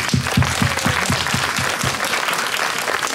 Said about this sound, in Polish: gorące brawa dla pani Marty.